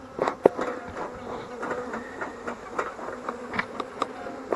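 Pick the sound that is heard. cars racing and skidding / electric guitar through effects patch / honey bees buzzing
honey bees buzzing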